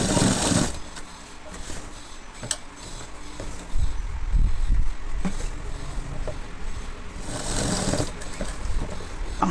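A sewing machine stitches loops onto a school uniform pinafore, running in a steady, fairly close mechanical whir with brief pauses and small shifts in speed, and no voices over it.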